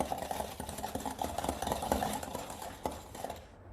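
A hand whisk beats eggless tutti frutti cake batter in a bowl, giving a continuous fast scraping and clinking rhythm, close and fairly loud.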